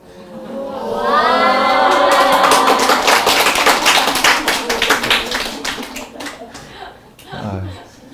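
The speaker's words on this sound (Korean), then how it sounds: "이게 박수 칠 일인가?" An audience at a Buddhist Dharma talk on the Cheonsu Sutra claps, a sustained wave of sharp hand claps that builds and then fades, with talking and laughter at the start and a voice at the end.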